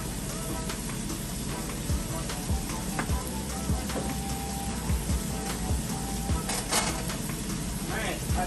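Breakfast food frying in a frying pan, a steady close crackling sizzle with scattered pops and small clatters throughout.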